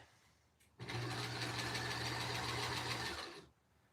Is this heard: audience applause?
no